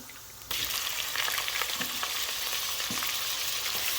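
Grated onion dropped into hot oil with browned garlic in a pan sizzles and fries loudly and steadily up close, with faint stirring scrapes and no talk.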